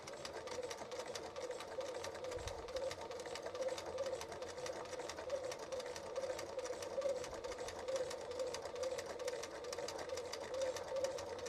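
Sewing machine top stitching a Victorian skirt, a continuous fast mechanical whirr with even rapid stitch rhythm, fairly quiet and close, running steadily without pause.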